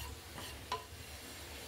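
A tablespoon of poppy seeds dry-roasts in a pan, giving a faint, quiet rustle of stirring with one brief scrape partway through and no talking.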